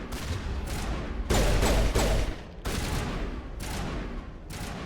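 Rapid bursts of automatic gunfire in the sci-fi shooter Mass Effect, several loud clustered volleys with short gaps between them, the heaviest burst in the middle, close and dense.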